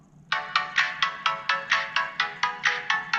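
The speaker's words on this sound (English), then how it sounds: "First, let's listen to a couple of seconds of this song with the case on." Ringtone-like song plays from a phone speaker sealed inside a waterproof Catalyst case, a bright melodic line with a steady pulsing beat of about a dozen evenly spaced notes, moderately loud and alone.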